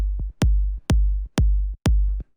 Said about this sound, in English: With the saturator, fattening it up a little